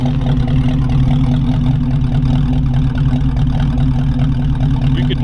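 A 1932 Ford Roadster with an old-school Brookville steel body runs at a steady idle, its engine giving a loud, close, even rumble with a low throbbing pulse and no talking over it.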